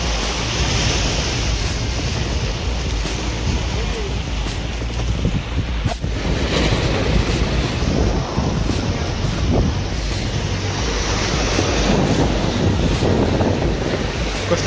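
Sea waves roll onto the beach at Dhanushkodi in a continuous loud wash while strong wind buffets the microphone throughout. No one speaks.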